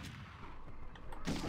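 Gunfire in the PlayStation 1 game Medal of Honor, a sharp blast arriving near the end after a quieter stretch of low game ambience, single and loud.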